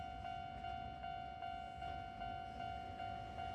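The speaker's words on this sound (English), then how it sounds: "finally saw the first non-green train of the day, a special livery promoting a local university" An Ishiyama Sakamoto Line train in a special university promotional livery passes by Lake Biwa, producing a steady rolling rumble with a sustained tonal whine and rhythmic wheel beats.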